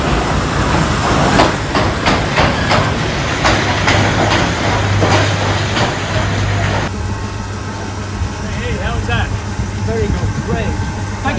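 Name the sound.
coal-powered steam train B2B 213 at station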